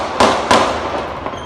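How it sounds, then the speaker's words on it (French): Two sharp loud bangs about a third of a second apart, each ringing into a broad reverberant tail, then a fainter third crack as the echoes die away; gunshots in a crisis, no voices. "Lorsque des coups de feu retentissent"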